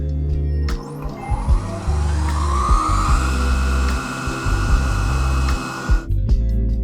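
A new milling machine fitted with a brand new 2.5-inch cutter runs at roughly 500 RPM. It gives a loud, continuous whirring grind with faint periodic knocks throughout.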